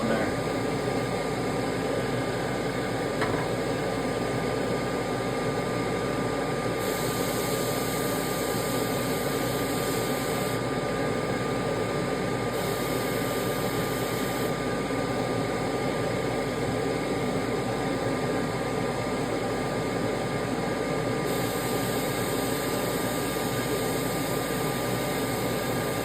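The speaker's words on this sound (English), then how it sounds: "Tip dryer going on there." A nail tip dryer runs with a steady, moderate mechanical whir and a faint hiss that holds throughout while making a custom glide set.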